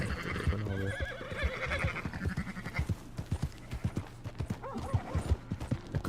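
Horse hooves in Red Dead Redemption 2 clop in a steady, even rhythm on the ground, close and clear, with a horse whinnying and sheep bleating nearby.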